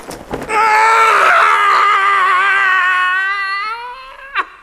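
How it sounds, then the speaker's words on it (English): A man gives a long, loud yell of horror on waking early in the morning. The sustained strained cry wavers and slowly fades over several seconds, heard alone and close. "The regular early morning yell of horror."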